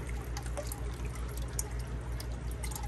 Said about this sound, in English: Get some fresh water flowing on that side.